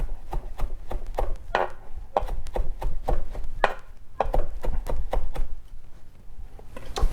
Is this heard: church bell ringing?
no